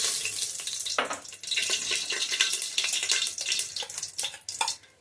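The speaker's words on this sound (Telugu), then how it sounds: "ఇప్పుడు ఆయిల్ వేసుకుందాం." Oil poured into a pan for bagara rice, with a close, steady liquid pour and light sizzling crackle running throughout, no voices.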